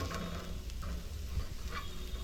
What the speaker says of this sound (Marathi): आता ही भाजून घेणार चांगली